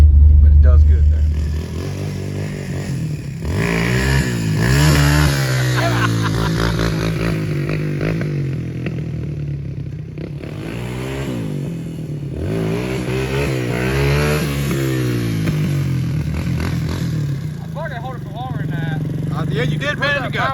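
A Chevrolet C10 truck engine with a very tight torque converter revs loud and close in repeated rising and falling bursts, its RPM held up to keep it from stalling, while people talk over it.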